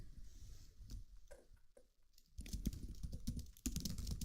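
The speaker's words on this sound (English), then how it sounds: "I'm typing that out." Rapid keystrokes on a computer keyboard, sparse and quiet at first, then a dense, louder burst of continuous typing close to the mic.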